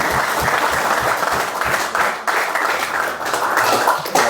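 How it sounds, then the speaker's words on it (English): A dense, loud burst of applause from a group, rapid overlapping claps that continue steadily throughout, close and full, with faint voices mixed in underneath. "Should we give them a round of applause?"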